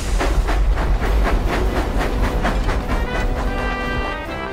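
A toy steam engine train runs along its track, giving a steady rhythmic chugging and clickety-clack with a hissing wash, close and loud throughout before easing slightly at the end.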